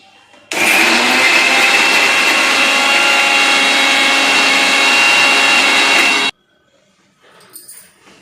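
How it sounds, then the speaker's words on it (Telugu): A mixer grinder whirs loudly for about six seconds as it grinds a spice paste of cloves, onion, ginger, garlic and poppy seeds, then stops abruptly, followed by faint rustling. "గసగసాలు వేసి మిక్సీ చేసుకుందాం."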